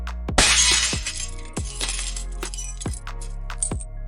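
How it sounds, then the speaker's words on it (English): An AI-generated shattering glass sound effect: a sharp crash bursts into bright tinkling, then several smaller clinks and falling shards scatter across the next few seconds, loud and close with no voices. "if we can add a shattering glass sound to this moment, it would be better"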